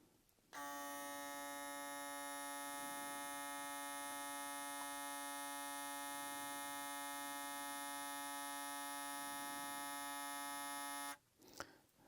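A Kemei 2373 hair clipper switches on and runs in a steady, even electric buzz with a strong tonal whine for about ten seconds, then cuts off, followed by a brief click.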